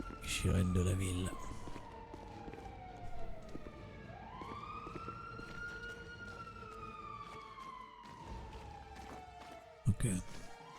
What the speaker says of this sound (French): Sirène de la ville.